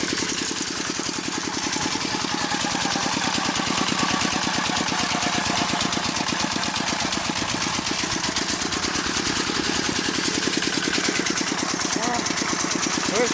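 A small walk-behind tractor engine chugs steadily with a fast, even knocking rhythm while running a Zubr mower attachment, loud and close throughout, at moderate speed.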